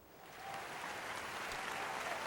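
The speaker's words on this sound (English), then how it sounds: "Let's give her a round of applause." An audience gives a round of applause for a dean of academics at a campus event, dense steady clapping that builds quickly and holds.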